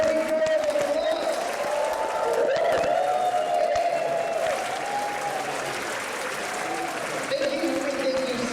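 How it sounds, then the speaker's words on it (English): A conference audience gives sustained applause for graduates, a dense, steady roar of many hands clapping throughout. A speaker's voice carries over the clapping. "We welcome them and give them a big round of applause."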